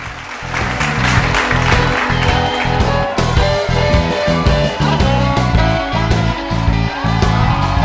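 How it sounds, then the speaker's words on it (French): Audience applause greets King Gaspard's entrance at a studio talk show, a dense, loud wash of clapping sustained throughout with some crowd noise and cheering mixed in. "Réservons-lui nos applaudissements les plus chaleureux."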